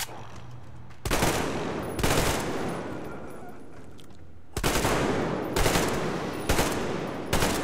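Heavy gunfire in the first-person shooter Metro, bursts of loud, close shots in several separate volleys with short pauses between them, each ringing out with a sharp crack and a booming tail.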